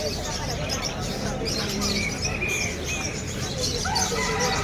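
Chickens clucking and calling at a pet market in Malabon, Philippines, mixed with chirping birds and a steady background bustle.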